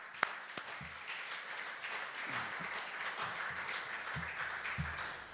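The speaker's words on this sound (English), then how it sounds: "get the entire audience to join me in a round of applause" Audience applause at an investment conference, a moderate-sized crowd clapping steadily at some distance, fairly faint, with a few sharper individual claps standing out.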